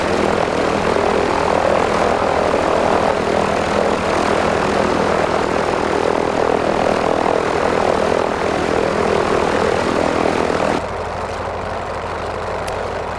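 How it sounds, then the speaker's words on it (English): Propeller engine of an F4F-4 Wildcat in Microsoft Flight Simulator, throttled back to about 1000 RPM, drones as a loud steady rumble that drops suddenly to a quieter idle near the end, with no talk over it. "let's bring the engine back down to 1000 RPM"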